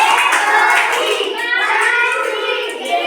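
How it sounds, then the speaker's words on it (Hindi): A group of students in a classroom clap for themselves after a poem activity, a brisk burst of many hands applauding at once, fairly close and steady for a few seconds, with faint children's voices mixed in. "तो अपने लिए ताली बजा लो।"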